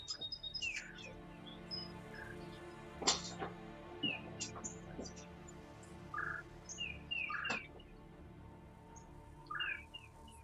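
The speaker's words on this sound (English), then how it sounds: "Love that sound, birds chirping" Birds chirp and tweet outdoors during a fishing match, in scattered short calls over a steady low background hum, several bright bursts spaced irregularly, moderately loud and fairly close.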